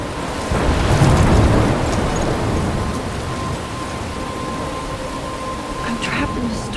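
Rumbling thunderstorm in the video game Life is Strange, with a loud swell of thunder early on, then steady storm noise and rain beneath a voice speaking over it.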